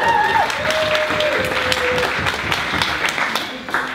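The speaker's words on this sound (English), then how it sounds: "You can clap." Wedding guests clap in a reception room at Kilver Court in Somerset, scattered claps under tones and background murmur, fading near the end.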